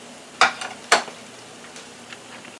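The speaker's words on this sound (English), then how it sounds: "I'm going to finish frying the rest of them" Plantains sizzle softly as they fry in hot oil, with two sharp clinks of utensils against the pan early on.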